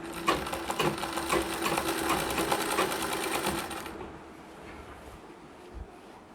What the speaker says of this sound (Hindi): अब हमें सिलाई लगा लेनी है।